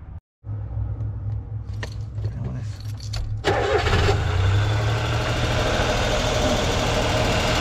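A van engine cranks briefly, catches and roars to life, then settles into a steady, rumbling idle, close and loud, with a voice talking over it.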